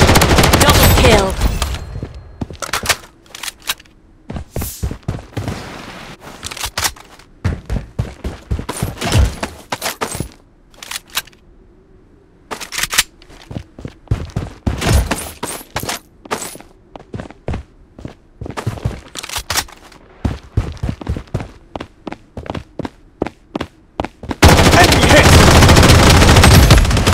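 Gunfire in the mobile shooter game Project Bloodstrike: rapid automatic bursts and single shots come close and loud in irregular clusters over footsteps and game effects, ending in a dense loud rush.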